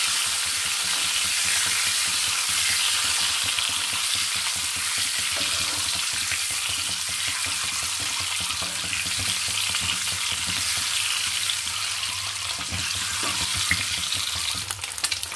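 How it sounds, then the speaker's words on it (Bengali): Egg frying in hot oil in a pan, a loud continuous hiss and crackle of sizzling that holds steady for the whole stretch with no talking. "একটু ভেজে নিব।"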